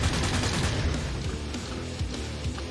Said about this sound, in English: This must be the highest precision minigun in the history of the universe.